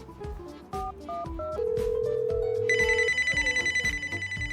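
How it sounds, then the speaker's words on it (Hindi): Phone ringtone from an incoming call sounds out alone over a busy, rhythmic comedy music bed, first as a long steady tone, then as a bright rapid repeating ring, fairly loud. "सर आप एक काम करिए, लोकी को ना फोन कर लीजिए, उससे पता चल जाएगा कि वो कहाँ है"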